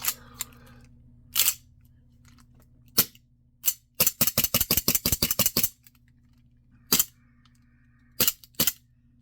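A KWC Cybergun CO2 Colt 1911 blowback airsoft pistol fires BBs as sharp, loud snaps: a few single shots, then a rapid string of about a dozen, then more spaced shots, all up close with no voices.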